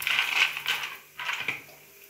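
A few cashew nuts dropped into a metal pan make bright, clattering taps in two short bursts, close and fairly quiet.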